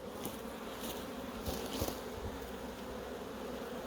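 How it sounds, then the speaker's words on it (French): Black honeybees buzzing around an opened hive in Corsica, a continuous close droning hum with a few louder passes of individual bees, no voices. "Donc on voit vraiment l'abeille noire."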